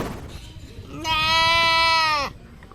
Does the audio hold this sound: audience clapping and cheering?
no